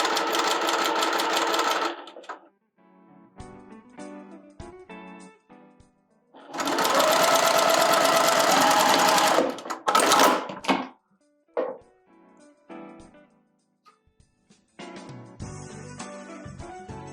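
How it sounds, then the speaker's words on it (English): Sewing machine stitching a 5/8 seam in very lightweight fabric, in loud bursts of rapid stitching with pauses between runs and a quieter stop-start stretch before the final burst. "I'm going to stitch this at the 5/8 seam allowance here"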